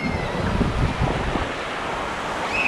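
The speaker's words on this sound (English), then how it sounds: "Got the GoPro, and what a lovely beach. This is Dawlish Warren." Surf washing onto the sandy beach at Dawlish Warren, Devon, a steady, fairly close rush of breaking water mixed with wind buffeting the microphone, with no talking.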